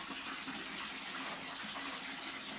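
Water running from a pump-fed tap during a home laundry day, a steady faint broadband rush and splash that continues evenly throughout with no talking.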